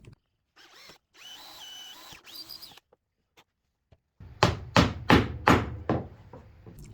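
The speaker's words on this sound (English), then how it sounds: "I can drill another hole on it for the pencil that I'm going to use" A power drill whines in two short bursts, then several loud grinding pulses follow in quick succession as it bites through material.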